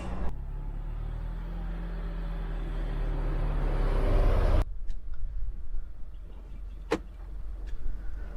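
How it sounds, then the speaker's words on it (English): A Mercedes Suprex three-cylinder inline engine in a high-mileage car idles in neutral with a steady low rumble that swells slightly, then cuts off abruptly, leaving quieter interior background with a few faint clicks. "It's called a Suprex engine, made by Mercedes, 3-cylinder inline."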